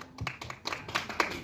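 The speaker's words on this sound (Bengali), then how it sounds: "একটা জোরে হাততালি" A few scattered hand claps at a dessert brand launch event, sparse and fairly quiet, coming in irregular bursts rather than full applause.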